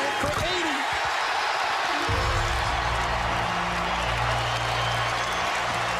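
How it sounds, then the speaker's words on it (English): A basketball arena crowd roars and applauds on its feet for Kobe Bryant as he scores, a dense, unbroken wall of cheering with a voice talking over it. "This entire crowd on its feet."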